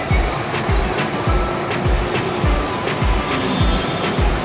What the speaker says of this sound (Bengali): সো ফাইনালি তাহলে চলে এসছে আমাদের মেট্রো